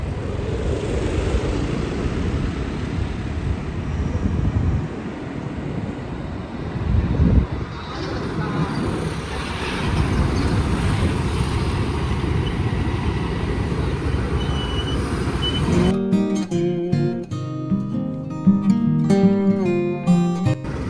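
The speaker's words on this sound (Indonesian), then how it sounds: "Di stasiun Bayeman ancang-ancang dan langsung throttle, ngebul." Double CC300 diesel locomotives throttling up hard from Bayeman station in Probolinggo during a bridge test, a loud sustained engine roar and rumble that continues steadily, then gives way near the end to a different tonal, music-like sound.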